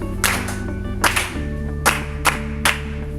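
A group claps a rhythm together in a music class, five sharp, roomy claps spaced unevenly over a sustained background tone.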